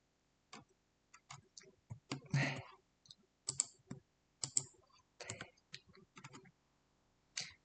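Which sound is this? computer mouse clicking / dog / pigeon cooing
computer mouse clicking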